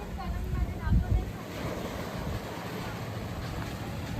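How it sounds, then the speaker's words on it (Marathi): Sea waves wash between rocks at Vengurla beach on the Konkan coast, a steady near surge with wind buffeting the microphone and a slightly louder swell near the start. "दोन बाजूला हे खडक आणि मध्ये समुद्र"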